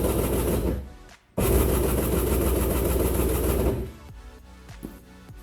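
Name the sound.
1100cc two-stroke jet ski engine cranking during compression test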